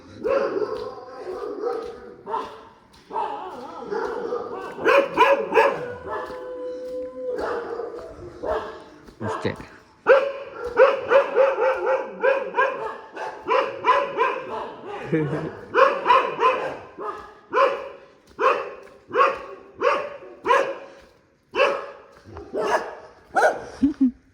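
Street dogs bark and yip repeatedly at 2:30 a.m. on JC Road in Bengaluru, in sharp bursts, some close and loud, others fainter, with speech mixed in among them.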